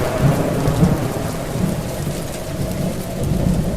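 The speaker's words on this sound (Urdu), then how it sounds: "یہی نہیں بلکہ ساتھ ہی موسلا دھار بارش بھی شروع ہو گئی۔" Heavy rain pours steadily through a thunderstorm, with low rumbling thunder rolling beneath a dense, continuous hiss of rainfall, loud and close with no voices.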